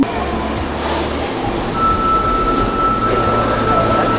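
A train runs at a rail station, with a loud low rumble and hum, a brief rising whine and a steady tone partway through, heard close up.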